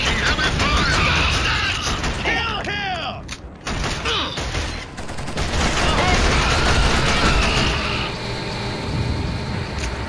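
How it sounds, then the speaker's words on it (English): Heavy, continuous battlefield gunfire from the Killzone game, a dense, loud roar of automatic weapons with mechanical clatter and shouting voices mixed in throughout. "Taking heavy fire!"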